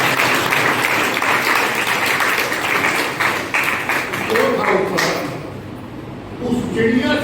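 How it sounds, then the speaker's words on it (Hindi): Audience applause at an environmental Rakhi celebration event, a dense steady clatter of many hands lasting several seconds, with voices talking over it toward the end. "ताली बजाओ।"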